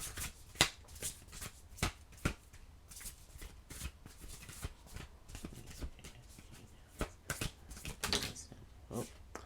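Tarot cards being shuffled by hand, a steady run of crisp riffles and soft slaps repeating across the whole stretch, close and moderately quiet with no talking.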